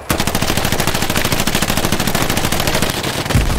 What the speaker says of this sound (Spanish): vamos disparando, disparando, disparando